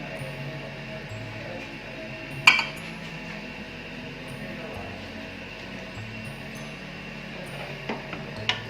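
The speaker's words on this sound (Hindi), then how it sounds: "बिरयानी मैं आपको डिश आउट करके दिखाती हूँ" Sindhi biryani being served out onto a dish: a spoon clinks sharply against the dish a few times, scattered soft scrapes and taps between, quiet and close with a faint background hum.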